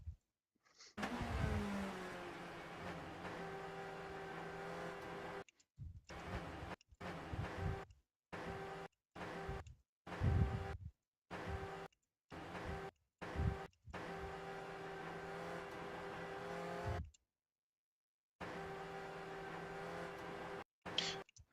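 Modded Audi A4 B5 Super Touring race engine in a racing game, revving loud and alone in repeated short bursts of throttle separated by abrupt silent gaps, with a steady harmonic engine tone and no talk.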